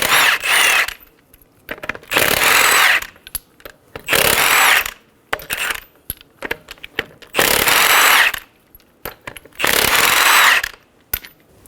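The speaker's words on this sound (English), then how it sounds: "Using a 21mm socket, remove the lug nuts." A power tool, likely an impact wrench with a 21mm socket, removes lug nuts from a 2007-2011 Toyota Camry front wheel in about five loud, one-second bursts, with quieter ratcheting and clinking between them.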